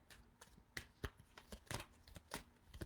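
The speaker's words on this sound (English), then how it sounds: "Let me get another good shuffle in here." Tarot cards riffle and snap in quick, crisp bursts, close and fairly quiet, with soft pauses between shuffles and no talking.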